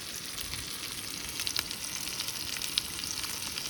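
Onions sizzle and fry in a pan at a campsite, a steady crackling hiss with small pops scattered throughout, fairly close.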